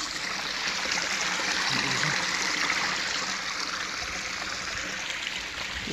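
Water rushes steadily into the intake of a micro hydro plant, a loud continuous close-up gushing and splashing with no talk.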